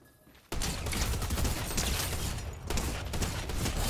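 Dense, continuous gunfire in Fortnite aimed at a small blue alien, starting abruptly after a quiet moment and hammering on steadily with only a brief dip near the end.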